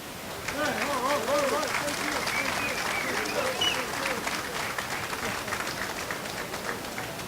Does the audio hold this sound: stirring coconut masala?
no